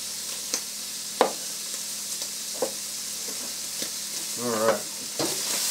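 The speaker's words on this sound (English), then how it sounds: "Cook that in there with the beef." Broccoli cooking in a pan with beef for venison lettuce wraps, a steady close sizzle under occasional sharp spatula scrapes and taps against the pan.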